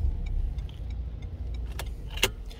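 A Renault Megane 4 engine starts with a newly programmed original chip key and settles into a low, steady idle rumble, with a few light metallic clicks and a sharper clack near the end.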